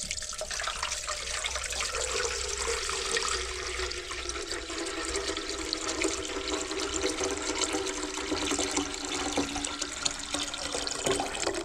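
Tap water runs steadily into the tank of a VEVOR ultrasonic cleaner, a constant broadband rush that stays loud and even throughout with no voices.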